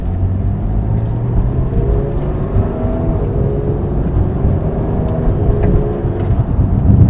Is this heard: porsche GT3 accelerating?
yes